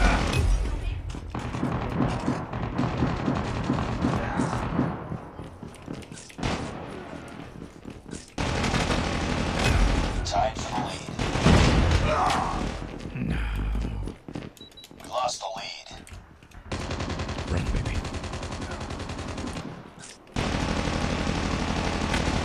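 Rapid bursts of automatic gunfire from the mobile shooter Call of Duty Mobile, loud and dense, broken by short pauses and mixed with game effects and occasional voice chatter.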